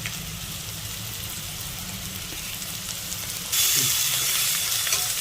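Ground spices (turmeric, cumin, coriander and red chili powder) fry in a pan for a Bengali fish curry, giving a steady close sizzle and hiss that grows brighter and louder partway through, with faint stirring and no talk.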